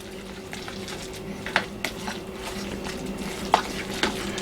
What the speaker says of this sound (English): about 2 cloves of garlic, like so. And I can mix those in very nicely.